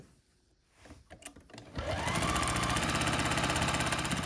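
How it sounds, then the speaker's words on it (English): Sewing machine stitching the final seams of a quilt block, starting after a few soft handling clicks and then running in a loud, rapid, steady whir close by. "So I'm just going to sew these 2 final seams together."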